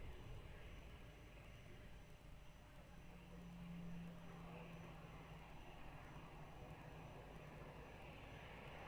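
An airplane approaching runway 02 at Lisbon Airport gives a steady, distant low engine rumble that holds evenly throughout, with a faint droning tone rising briefly in the middle.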